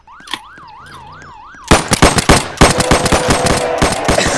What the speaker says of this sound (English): They're shooting at us. Oh, they have guns.